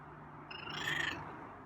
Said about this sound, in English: Oh, another meow or a purr.